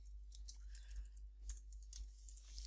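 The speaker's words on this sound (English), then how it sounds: "So I'm going to type that in the box over here." Quick, light clicks of keys on a computer keyboard as a search is typed, faint and close over a low steady hum.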